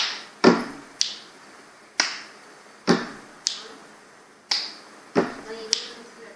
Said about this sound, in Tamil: Third one clap tap snap. snapனா சொடக்கு போறது.